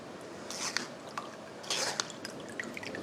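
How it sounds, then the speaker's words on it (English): Liquid from diced garden tomatoes drips and squishes faintly as the pieces are shifted around in a colander, with a few soft wet bursts and scattered drops. "I'm just moving them around a little bit in the colander so that they release a little bit more of their liquid."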